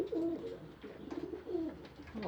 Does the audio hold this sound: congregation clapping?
no